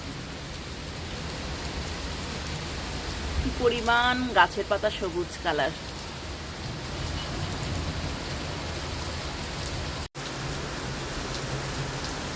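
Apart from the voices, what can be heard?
heavy rain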